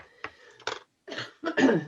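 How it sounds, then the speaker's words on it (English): A few short coughs and throat-clearing bursts, close up, separated by brief pauses. "All of a sudden I want to cough"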